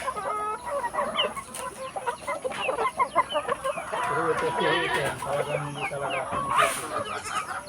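A flock of chickens clucks and chatters nonstop close by while being fed ripe bananas, many overlapping calls in a busy rural farmyard.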